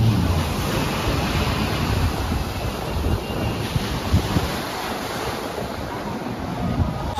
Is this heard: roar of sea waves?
yes